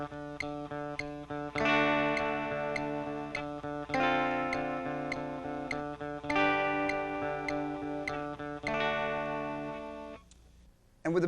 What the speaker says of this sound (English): And with the metronome set at 100, it sounds like this.